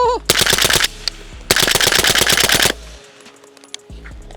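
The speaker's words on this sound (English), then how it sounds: "let's try to bump fire this thing" Rifle bump fired in two rapid bursts of gunshots, each lasting about a second, loud and close, with a short pause between the bursts and a quieter tail afterward.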